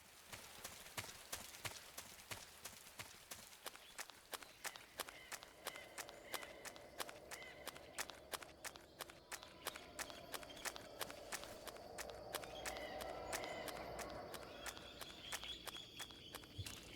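A running enemy's footsteps in Metal Gear Solid 3: Snake Eater, quick, evenly spaced steps that patter on for the whole stretch, faint and crisp over a soft ambient wash that swells briefly midway.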